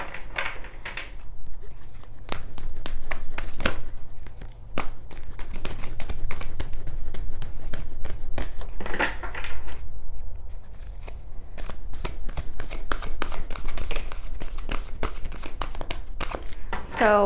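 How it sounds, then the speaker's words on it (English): Oracle card deck being shuffled by hand, repeated crisp riffling and sliding card sounds in quick bursts, close and clear, with someone talking over parts of it. "This deck is kind of hard to shuffle."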